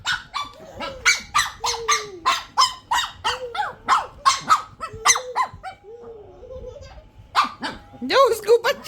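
A dog barking repeatedly in a fast series of loud, close yaps with a short pause midway, while a person talks over and between the barks.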